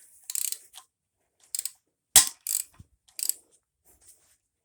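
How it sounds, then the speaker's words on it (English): A pipe wrench backs out a broken stud in short bursts of metallic ratcheting and scraping, separated by silent pauses, close and clear. "And then you gotta pipe wrench all the way out."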